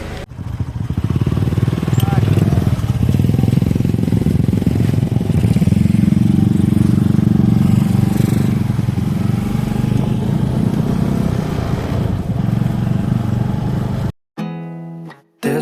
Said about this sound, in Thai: เราก็ขี่รถตามกันไปเพื่อไปยังจุดหมายที่พัก